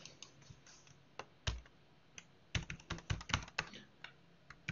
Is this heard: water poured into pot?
no